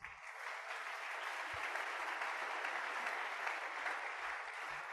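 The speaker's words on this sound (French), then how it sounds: "Acclamons Jésus." A church congregation claps together in sustained, even applause, a dense wash of hand claps at a moderate distance that continues throughout without pause.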